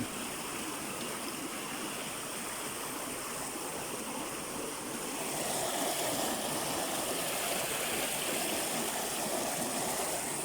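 Cold stream flowing steadily over rocks at a hot spring and cold-water brook, a continuous broadband rush that swells slightly louder in the second half, with no voices.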